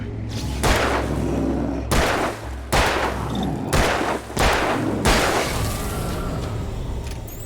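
Gunfire in the Alan Wake video game: five heavy, booming shots spaced about a second apart, each with a long echoing tail, loud and close with no talk over them.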